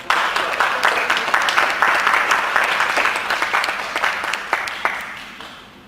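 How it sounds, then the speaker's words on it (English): Audience at a graduate open house giving a steady round of applause, a dense wash of many clapping hands heard indoors, fading out over about six seconds. "let's give them a round of applause"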